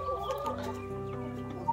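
A rooster and hens on a hillside poultry farm in Uttarakhand cluck close by in short, overlapping calls with low background murmur and no talking.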